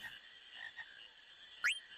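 A frog croaks in the Final Fantasy IX video game: a steady buzzing tone is followed by one sharp rising chirp near the end, standing alone with no voices.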